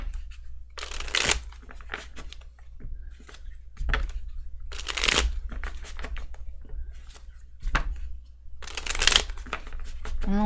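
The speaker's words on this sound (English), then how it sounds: "I don't know why I'm shuffling so much for you." Tarot cards are shuffled in several quick riffling bursts, each a brief crisp flutter, separated by softer handling noises and pauses.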